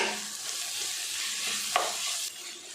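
Steady sizzling from a pan of finely chopped vegetables with green chilli and ginger being sautéed for potato masala, with a sharp scrape of stirring partway through, close and fairly quiet, with no voices.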